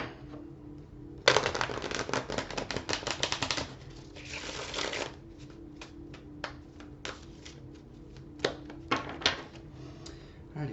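A deck of tarot cards is shuffled in quick riffling bursts, a dense flurry early on followed by lighter, intermittent flicks and taps.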